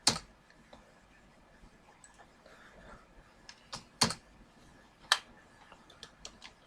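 Sparse computer keyboard keystrokes while Urdu text is typed on a PC, a few sharp isolated clicks spread out with gaps between them, near and quiet over a faint room hum.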